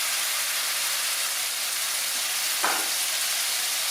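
Meat frying in a hot pan with Worcestershire sauce, giving a loud, continuous dense sizzle that stays steady throughout, with a brief extra crackle near the end.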